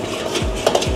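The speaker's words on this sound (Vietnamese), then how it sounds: "Rồi cả nhà cứ xào đều vậy là xong nha." Seafood fried rice is stir-fried in a pan, with a utensil scraping and tossing the rice in a few quick strokes. The stirring is close and moderately loud, with faint background noise and no talking.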